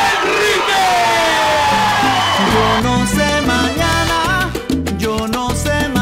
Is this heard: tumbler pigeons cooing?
no